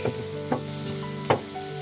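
Eggplant fries in oil in a pan for moussaka, giving a steady close sizzle broken by three brief louder bursts, as if pieces are shifted or turned.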